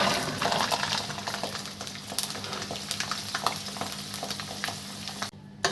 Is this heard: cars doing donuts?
no